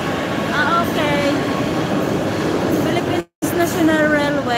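A light rail train runs through Oslo, Norway, its steady, loud broadband rumble and rolling rail noise filling the whole stretch, dropping out for a split second, with faint voices underneath.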